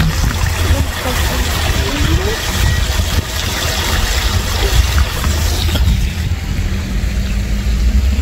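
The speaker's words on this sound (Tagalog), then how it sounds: "May falls! May falls din dito. Mini falls." A small freshwater waterfall pours in a steady, dense rush that fills the whole clip, close and loud, with a constant low rumble underneath.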